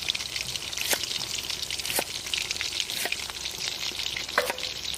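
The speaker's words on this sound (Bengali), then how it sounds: "চিংড়ি মাছ আমাদের কোপ্তা ভাজা হয়ে গেছে" Prawn kofta fries in hot oil with a steady bubbling sizzle, and sharp clicks and spatters break in about once a second, close and moderately quiet, with no talking.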